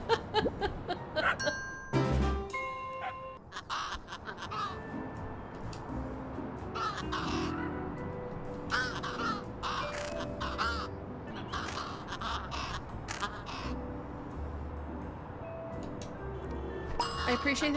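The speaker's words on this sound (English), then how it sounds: "I appreciate that this crow is helping me" A crow in the cat adventure game Little Kitty Big City caws repeatedly over game music and chimes, the calls coming in bursts across the scene amid other game sound effects.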